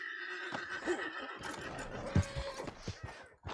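A horse in the Red Dead Redemption 2 video game neighs and snorts with a few hoof clip-clops, set against quiet game ambience, moderately close.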